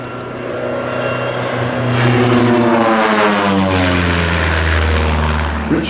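Spitfire propeller fighter roaring past at the East Fortune air show, a loud, steady engine drone with a clear pitch drop as it sweeps by close overhead, no voices.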